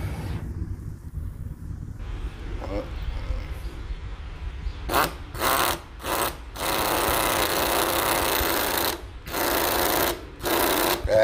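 A Central Pneumatic 1/4 air-powered impact screwdriver drives into a new DeWalt driver with loud buzzing, rattling bursts, several short pulses and then longer runs with brief pauses, over a steady background hum.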